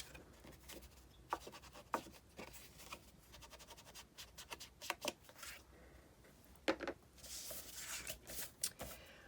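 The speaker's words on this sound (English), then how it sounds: "we're going to ink where we trimmed" Ink is worked onto the trimmed, rounded corners of a paper craft piece with quick, close rubbing and dabbing strokes that come in irregular bursts, quiet and with no talking.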